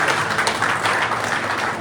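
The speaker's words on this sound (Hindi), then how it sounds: "जोरदार ताली देगा।" Applause from an audience at an outdoor Yoga Day celebration in Malda, a steady, dense wash of clapping heard close throughout.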